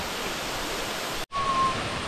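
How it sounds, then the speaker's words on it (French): A waterfall, the third cascade in a series, roars as a steady, loud, broadband rush of water, cut by a brief dropout partway through, with a faint high tone after it. "Troisième cascade, elle est trop belle."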